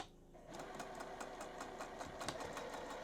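A sewing machine stitching quilt pieces for a friendship star block runs steadily after a short quiet start, with a fast, even mechanical chatter that is close and continuous, with no talking.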